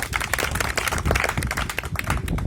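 A street crowd watching a live comedy and magic show claps steadily for a few seconds, a dense, continuous patter of many hands.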